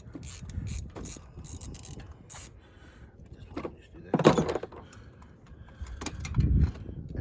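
A ratchet unscrews a spark plug from a 2013 Scion xB, making bursts of quick mechanical clicks and metallic rattles spread unevenly across the moment, with short quieter gaps between them.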